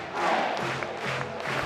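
Crowd at an Auburn Tigers college baseball game against Stetson at Plainsman Park cheering and roaring, a sustained, fairly distant wash of many voices with swelling shouts.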